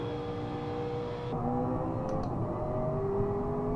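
Formula 1 racing car engine in a 2024 racing video game played on a DIY steering wheel, a steady high whining drone that shifts pitch as gears change, fairly loud with no talk.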